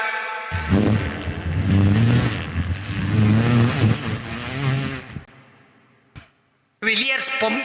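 A voice imitates an old Fiat car engine, first with a loud rough revving rumble that fades out, then a short burst after a brief gap.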